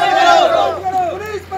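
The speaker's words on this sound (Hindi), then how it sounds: "मुस्लिम समाज के लोगों की भीड़ मोर्चरी के बाहर इकट्ठा हो गई और पुलिस के खिलाफ नारेबाजी करते हुए" A crowd of Muslim community members gathered outside a mortuary, shouting slogans against police; loud, overlapping raised voices chant together in a brief, dense burst.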